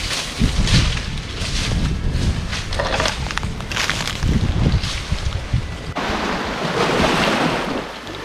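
Ocean waves wash onto a shore under strong gusting wind, loud and close. The surf breaks and hisses repeatedly while wind buffets the microphone.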